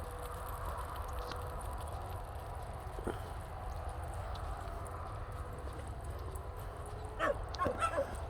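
Dogs at a dog park give a few brief barks and yips, faint and a little distant, near the end, above steady outdoor background noise.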